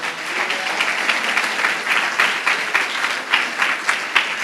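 A church congregation applauds Jesus Christ during a Portuguese sermon, with sustained, dense clapping that holds steady from near and far and gets a few sharper, louder bursts toward the end.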